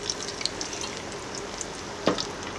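Steady crackle and bubble of plantain frying in hot oil, with a brief louder splash or stir near the end, close by.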